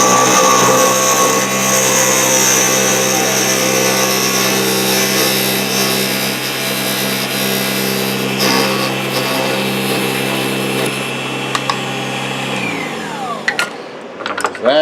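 A Proxxon DB 250 microlathe parts off a nutcracker leg with a loud, steady whirring cut that runs continuously, then winds down and stops near the end with a few small clatters.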